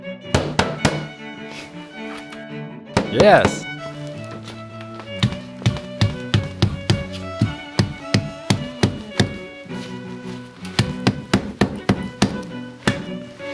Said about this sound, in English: bananas can also be used as a hammer